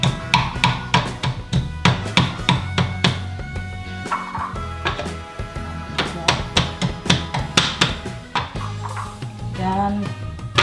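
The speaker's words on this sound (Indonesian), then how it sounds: "sekarang aku mau geprek itunya dulu ya" Spices being smashed and bruised for Indonesian grilled chicken, ayam bakar, heard as loud, close, repeated sharp pounding knocks in an uneven rhythm that continues through the whole stretch.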